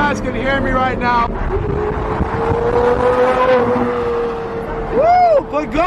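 Pagani supercar, one of five in the world, roaring past at an expensive car event, its engine loud amid wind noise and crowd chatter, with people talking over it.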